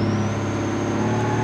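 A heavy plow truck engine in BeamNG.Drive drones at a steady low idle with a faint high whine above it, holding constant for a short stretch.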